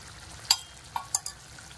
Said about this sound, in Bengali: ওই তেলানিতে একটু তেল ভাজবে